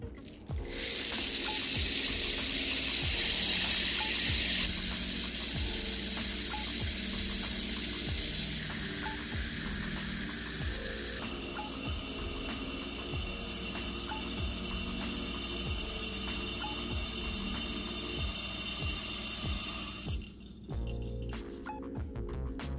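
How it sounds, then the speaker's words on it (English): Gunpowder pours steadily from the open spout on the underside of a Frankford Arsenal Intellidropper tabletop powder dispenser, a continuous dry hissing trickle that runs without pause for about twenty seconds and then cuts off with a few small clicks. "on the bottom side, there's a hole for the powder to be drained"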